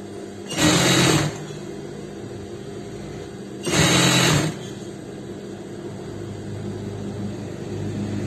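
Sewing machine stitching the button placket of a Pakistani-style shirt, running in two short bursts about three seconds apart, each a loud steady whirr over a quiet room hum.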